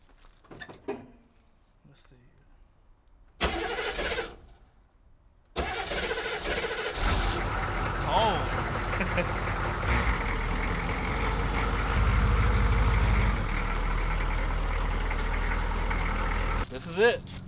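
A Humvee engine cranks and starts using its original ignition switch, then settles into a loud, steady low idle that runs close by for more than ten seconds, with people talking briefly before it fires up.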